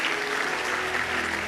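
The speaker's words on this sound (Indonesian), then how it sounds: "tepuk tangan buat Tuhan Yesus" Continuous applause from a church congregation at a sermon, a dense steady wash of clapping hands filling the space, with no voices standing out.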